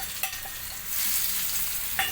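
Oil sizzles softly with tempering spices and turmeric crackling in it, a steady hiss that rises midway, with a couple of small clicks and no voices.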